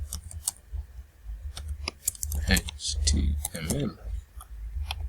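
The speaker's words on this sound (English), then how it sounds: "Just type H1, press enter, and then we can type" Typing on a computer keyboard while writing an HTML page, light irregular key clicks and taps heard close, with a person talking quietly over them.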